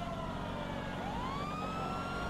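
Ambulance siren in the video game GTA 5, a rising wail sweeping up over a constant rumble of traffic and engine noise, moderately distant and steady, with no voices.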